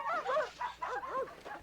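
A dog barks and yips in a scene from the 1986 film Stand By Me, with several quick, fairly close barks in an uneven rhythm and a whimpering edge.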